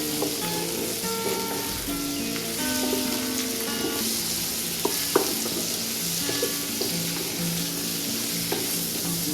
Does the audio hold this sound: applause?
no